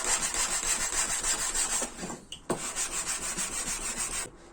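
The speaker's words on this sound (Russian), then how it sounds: "с которым теперь нам легко будет шлифовать поверхности" A sandpaper block, made with a stationery binder clip, rubs back and forth across a surface in steady, close, loud scraping strokes, with one brief pause partway through.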